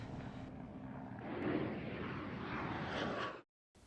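An airplane arrives in a zombie film, its broad roaring engine noise rising and swelling steadily for about three seconds before the sound abruptly cuts to silence.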